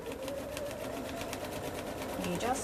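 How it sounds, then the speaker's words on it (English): A sewing machine stitches steadily through an extended binding on a bulky quilt edge, its motor whirring in a fast continuous run with a brief pitch rise near the end. "You then just continue to sew."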